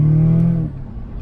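A 2020 Audi S3 8V engine roars loudly with a steady high drone, then the revving drops off and fades to a lower rumble.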